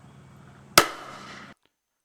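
A 40mm grenade launcher mounted under a K2 rifle fires one sharp, heavy bang out of a low background hum, followed by a short rumbling tail that cuts off abruptly.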